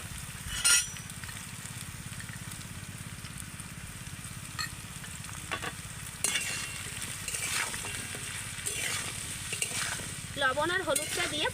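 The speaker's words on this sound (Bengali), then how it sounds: "এবার আমি তেলের মধ্যে কেটে রাখা পটলগুলোকে দিয়ে দেব এবার আমি পটলের মধ্যে লবণ আর হলুদ দিয়ে দেবো" Sliced pointed gourd (potol) sizzles in hot oil with salt and turmeric, a continuous frying hiss with occasional spatula scrapes and clinks, and a low hum underneath.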